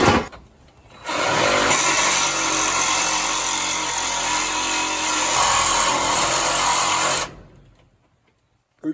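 A power tool cutting through an old wooden deck held together with long screws or bolts, starting abruptly, running as a loud continuous buzzing whine for about six seconds, then cutting off into quiet.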